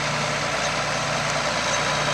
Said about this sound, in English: Here's the John Deere 7810 two-wheel drive tractor.